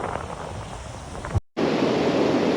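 Strong wind buffets the microphone on a beach while surf fishing for pompano, with a steady roar of surf underneath, cutting out for a brief moment midway.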